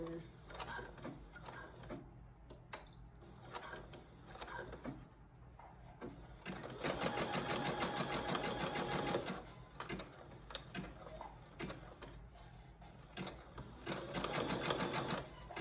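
A sewing machine runs in bursts as it stitches a skirt made from paper bags, its fast mechanical whirr starting and stopping, with quieter handling noises in the pauses.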